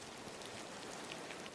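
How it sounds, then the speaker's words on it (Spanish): In the video game Disney Dreamlight Valley, soft rain patters evenly on surfaces, a faint, continuous hiss of drops with no other sounds. "Pues sí, se me ha puesto a llover."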